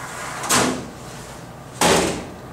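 An Insinger Commander 18-6 commercial dishwasher with a low-clearance door being pulled down to close, heard as two loud, close broadband bursts of metal movement about a second apart, separated by quiet room tone.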